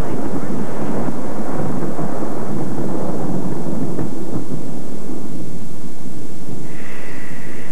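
Rumbling thunder from a thunderstorm in a 1998 TV commercial, a loud low roll building and fading, with a faint tone rising near the end.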